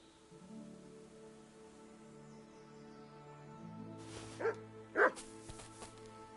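A dog barks twice nearby, two short sharp barks near the end over a quiet background with faint steady hum, after a calm stretch with no speech.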